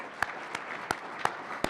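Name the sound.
audience applauding and cheering for Drake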